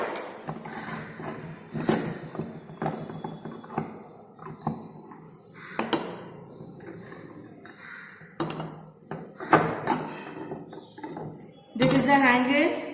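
Metal half-kilogram weights clink and clatter as they are lifted off a sonometer hanger one after another in a physics practical, sharp metallic knocks between stretches of a man's explanation.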